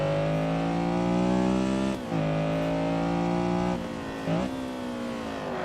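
A Honda Civic EG6 race car with a Spoon engine, driven in Assetto Corsa at Magione, screams at high revs in a loud, sustained wail, dipping briefly twice before climbing again.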